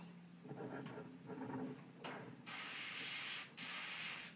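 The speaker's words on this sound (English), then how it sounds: "I'll show you how I airbrush this real quickly" Airbrush spraying gray paint through a brick stencil held on with masking tape, with a couple of soft handling sounds before a short burst, then two sustained, close hissing sprays separated by a brief pause.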